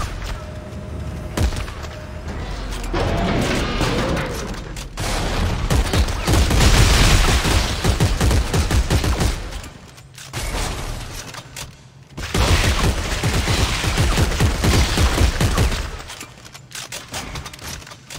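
Heavy weapon fire and booming blasts from the sci-fi horror video game Dead Space 3 come in long, loud, dense stretches separated by brief lulls, with music and effects layered underneath.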